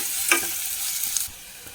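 Half an onion sizzles and fries steadily in hot oil while being stirred, with a continuous close crackle and a couple of brief scraping clinks.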